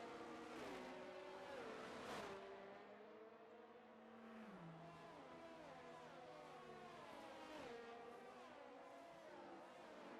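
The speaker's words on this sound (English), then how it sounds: "this safety car does go extremely slow as we watch it go through" A safety car rolls slowly around the track during a Chinese Grand Prix race in a racing video game, its engine note steady and droning, with gentle pitch shifts as it changes gear, continuous and fairly loud with no talk.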